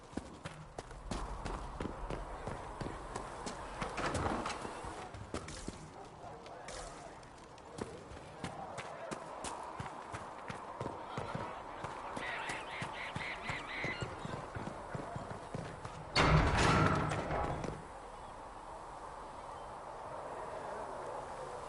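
Horses in Dragon Age: Inquisition, hooves clip-clopping in a steady trotting rhythm throughout, with game ambience and a brief louder burst near the end.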